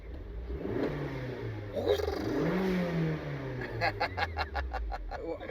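A turbocharged Honda Civic R18 engine revs up and drops back, rising and falling in pitch, then a rapid burbling exhaust pulse near the end.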